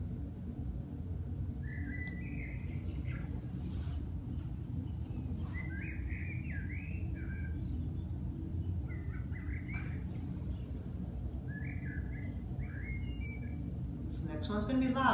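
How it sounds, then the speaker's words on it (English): Several birds chirp in short twittering phrases, spaced apart over a steady low rumble of background noise, moderately faint. "Now you hear birds."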